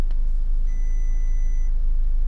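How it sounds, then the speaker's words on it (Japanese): A 2016 Audi S3 Sedan's low-fuel warning chime sounds as one steady electronic tone lasting about a second, heard inside the cabin over a low engine idle rumble. "今ピーって鳴ったのはアラームですね。"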